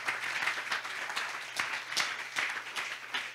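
A church congregation at a service in Limété claps together, a steady, fairly faint patter of many hands with a few sharper accents, and no voices on top.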